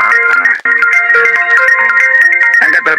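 A phone rings with a loud, close melodic ringtone, a bright looping electronic tune playing alone for the full stretch.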